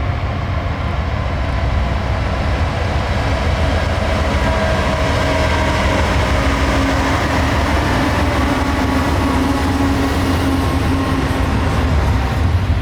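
A northbound train rolling past at Horseshoe Curve in Pennsylvania's Allegheny Mountains on a wintry day, a loud continuous rumble and rail roar with faint tonal squeals, no voices.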